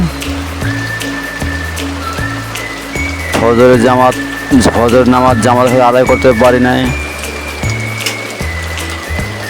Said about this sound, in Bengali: বরগুনা শহরে বৃষ্টি হচ্ছে।